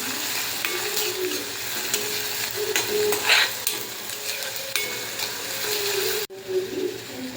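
Finely chopped onion with cumin sizzling and being stirred in a pan, a steady loud fry with scraping stir strokes and a short break near the end.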